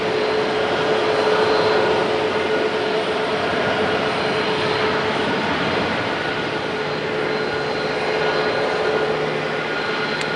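A United Airlines jet airliner arrives at Raleigh-Durham airport, its broad, steady engine roar holding loud and continuous for about ten seconds, with no talk over it.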